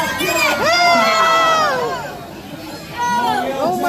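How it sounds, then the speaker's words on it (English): Audience at a Gatorland show yells and cheers loudly, a dense crowd of voices with children shouting, swelling then dipping briefly before rising again. "Come on, Bubba's team, help them out."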